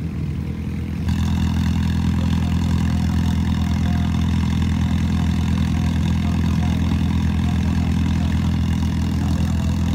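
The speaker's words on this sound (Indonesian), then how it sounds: "Ini dia guys, Nissan Micra. Satu-satunya mobil Epic4 yang ada di Sprint Rally Jogja. Gokil, kita lihat mobilnya waktu ngegas guys." A Nissan Micra rally car runs at the start of a sprint rally in Jogja, its engine holding a steady, loud, close drone that thickens abruptly after a second and stays even, with no voices over it.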